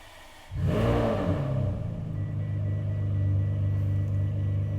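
A Ferrari 599 V12 engine cranks and fires at once with a loud roar, then settles into a deep, steady, rumbling idle, close by.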